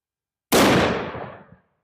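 A single very loud, close gunshot from a .500 Bushwhacker handgun fitted with a muzzle brake, fired at a target about 12 feet away; a sharp blast followed by a broad, ringing decay lasting about a second, with no talk.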